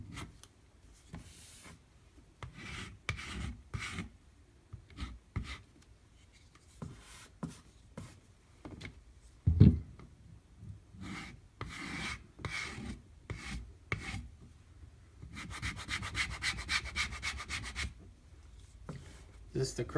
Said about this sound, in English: Again, I'm going to scrape it with my putty knife.